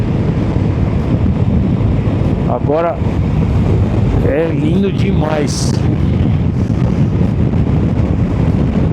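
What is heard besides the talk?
strong wind at high-altitude mountain pass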